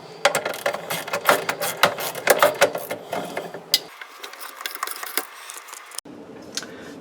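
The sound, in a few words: unscrewing screws on garbage disposal sink drain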